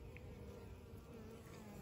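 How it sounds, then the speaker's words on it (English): Honey bees hover around the entrance of their hive while guard bees block strangers, making a steady, faint, continuous buzzing drone with no voices. "some more bees are flying around because they're afraid to get in"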